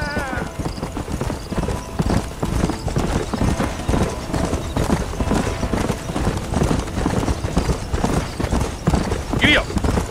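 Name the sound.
horse hooves trotting in video game Red Dead Redemption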